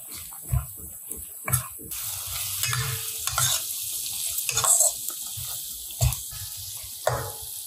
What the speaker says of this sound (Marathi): तिखटामध्ये हा कांदा व्यवस्थित परतून घेतला.